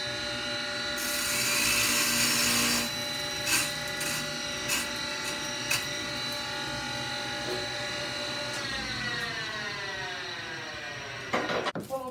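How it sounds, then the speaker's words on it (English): The grinding wheel of a flywheel grinder is dressed with a loud abrasive grinding and scraping over a steady machine hum, changing pitch partway through and then winding down near the end. "I need to dress this wheel. I'll go ahead and do that."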